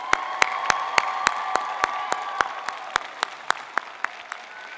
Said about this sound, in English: Lift them up high right now with a big round of applause.